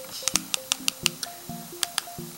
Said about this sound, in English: the keyboard is pretty shit. And it makes that horrible clicky noise.